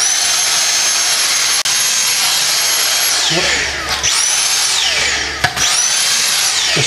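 A vacuum cleaner whines at a loud, steady pitch, then its tone sweeps and dips twice as a piece of power cord gets sucked in, with a sharp click partway through.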